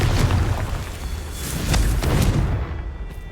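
Confringo, a fire-blast spell cast in Hogwarts Legacy: a loud, close series of booming bursts and crackling impacts with heavy low rumble, several sharp blasts landing in quick succession before the noise trails off.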